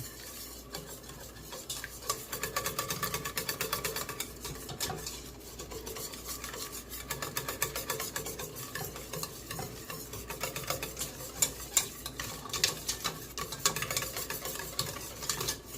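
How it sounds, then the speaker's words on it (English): Flour mixture being whisked in a pot for homemade condensed cream of chicken soup, a steady rapid scraping and rattling of the whisk against the pan that continues for about fifteen seconds, close and fairly quiet, with no talking. "you want to make sure you whisk it really good so it's not lumpy at all"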